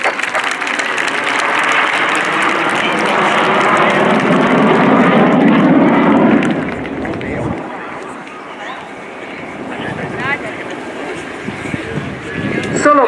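Frecce Tricolori jet formation roaring past at the RIAT 2018 air show, a loud broad rush that swells and then fades away, with a commentator talking over it and crowd noise behind.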